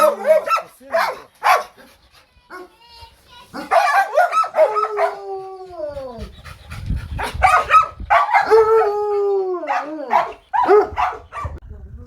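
Hunting dogs bark, yip and let out long rising howls in bursts, close and loud, on a family outing after pheasants, while people talk now and then between the calls.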